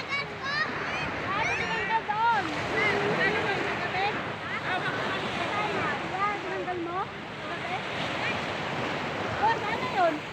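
Morning surf rolls and washes continuously on a beach with wind noise, while birds chirp and a voice talks over the waves.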